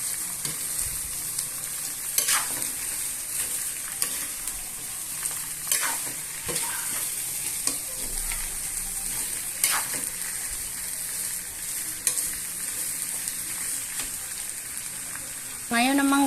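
Shrimp sizzles and crackles in a hot pan while being stirred, with scraping strokes recurring every few seconds over a continuous frying hiss.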